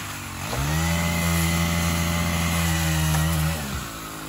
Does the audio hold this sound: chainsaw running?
yes